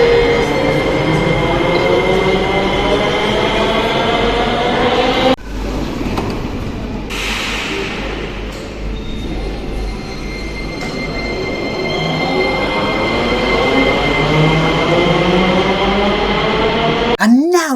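A Sofia metro train running underground, with a loud steady rumble and whirring motor tones that shift in pitch as it moves, a noisy burst midway, and a brief wheel squeal at the very end.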